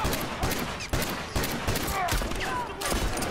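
In a war video game, rapid bursts of gunfire crack loud and close in a steady, repeated rhythm, with other battle noise mixed underneath.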